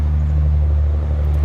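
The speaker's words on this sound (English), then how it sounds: "There's a lot of trucks on this road up here on this highway." Loud, steady low rumble of highway traffic with trucks on a road along the Appalachian Trail, a dense continuous drone of engines and tires close by with no break.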